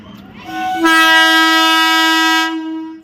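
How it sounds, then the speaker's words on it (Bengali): A train pulls in with its horn blaring in a long, loud, steady harmonic blast of about two seconds over rumbling rail noise, close by and with no talking. "দেখো ট্রেন ঢুকেছে"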